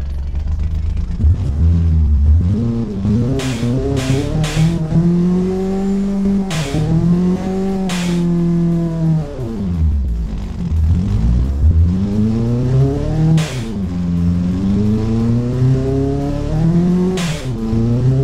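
A four-cylinder car in the Automation video game, fitted with a seven-speed sequential double-clutch gearbox and semi-slick tyres, revs loudly and continuously, its engine pitch sweeping up and down through repeated gear changes with no talking.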